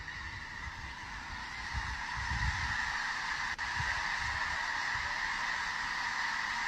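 A large flock of geese honking overhead near power lines, a dense continuous chorus of calls that stays loud and steady throughout, with no talk.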